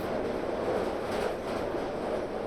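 A train rolls steadily onward in the video game We Are Passengers, a continuous rumbling hum with soft rhythmic wheel noise, moderately loud and unbroken, with no talk.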